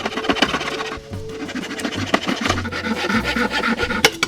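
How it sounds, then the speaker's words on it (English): A cheap Dollar Tree hacksaw rasps back and forth through a 1x2 wood board in uneven scratchy strokes, close and fairly loud, with brief pauses between bursts of cutting. "How about this 1x2? Good initial cutting."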